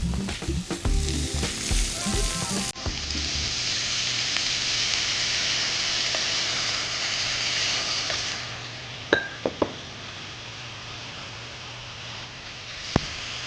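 Yogurt hits chicken in a hot frying pan, bursting into a loud, steady sizzle after a few clattering stirs, with a few faint utensil clicks and taps over the frying.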